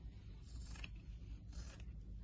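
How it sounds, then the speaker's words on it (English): Quiet scissors snipping applique fabric, two short crisp cuts about a second apart over a low background hum. "I would say that these scissors are working out pretty good."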